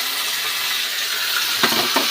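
Loteh fish frying in oil in a pan, a steady broadband sizzle with two short scraping knocks of stirring near the end; no talking.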